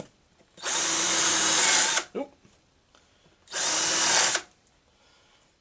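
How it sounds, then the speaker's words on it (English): A power drill countersinks screw holes for a European mount in two steady whining bursts, each about a second and a half long, loud and close, with a short clatter and quiet gaps between them. "Then this will be used for countersinking the screws"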